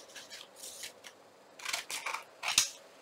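Scissors trimming paper for a junk journal, a few close, crisp snipping and rustling strokes in short bursts, loudest toward the end, with no talk.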